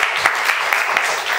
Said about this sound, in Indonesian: tepuk tangan buat Mbak Mutia